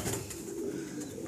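Young pigeons give a soft, low cooing call, close by and alone, in one short burst.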